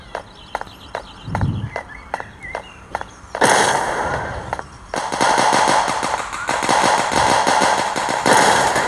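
Gunfire in a mobile shooter game: a run of evenly spaced single shots, then dense rapid automatic bursts that carry on loud and close, with no voice over them.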